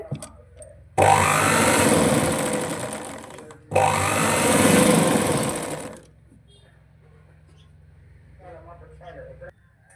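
An electric sewing machine stitching a designer blouse sleeve, running loud and close in two long bursts separated by a short pause, then stopping, with someone talking faintly afterward.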